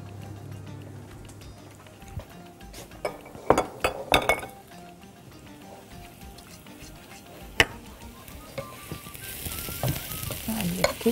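Flour is stirred as it fries in a pan for kishk with yogurt, giving a soft sizzle under scattered clinks and scrapes of a utensil against the pan, with the sizzle building toward the end.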